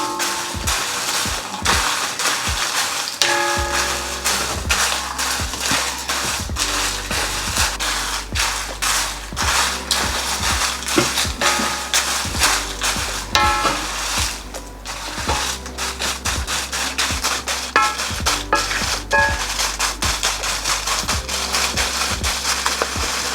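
Dried chillies roasting for Jaffna-style curry powder are stirred in a pan, giving a loud, continuous rattling and scraping full of dense, irregular clicks.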